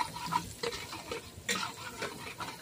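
Garlic fries in a pan while being stirred, with a soft sizzle under repeated scraping and tapping strokes of the utensil, close and quiet.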